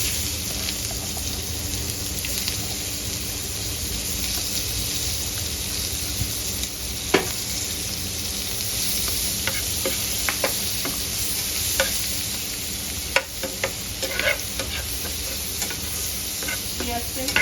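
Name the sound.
onions frying in hot oil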